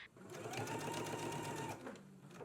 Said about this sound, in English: let's just go ahead and baste along this lower edge, making sure that you keep the large dots together